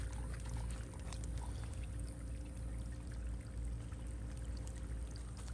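Garden sprinkler system spraying water over planting beds, a steady hissing wash of water that runs on evenly without pause, faint and somewhat distant.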